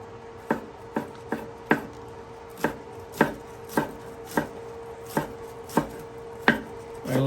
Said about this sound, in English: Okay, I put in some homegrown green onion.